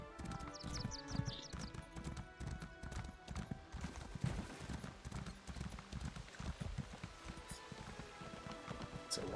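Horse hooves clip-clop in a steady trotting rhythm while riding in the video game Elder Scrolls Online, close and continuous, with a brief whinny early on.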